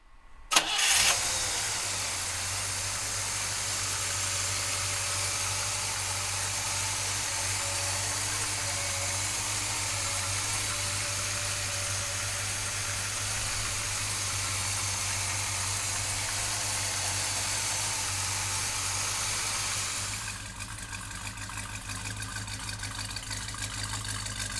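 A 1968 Chevrolet Chevelle big block V8 cranks and fires, then settles into a loud, steady idle with a deep low rumble that carries on unbroken, dropping slightly in level near the end.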